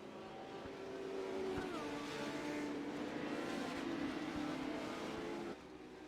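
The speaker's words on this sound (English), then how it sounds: "I think the pace car's outrunning the Legends car." A Legends race car and a pace car drive on the Concord track with a steady engine drone. Its pitch shifts gradually as they run, a brief clunk sounds partway through, and the drone drops off near the end.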